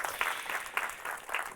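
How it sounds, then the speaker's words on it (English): An audience at a literature festival panel discussion claps faintly, the applause coming in soft pulsing swells across the short stretch. "So give her a round of applause and she can come up to the stage."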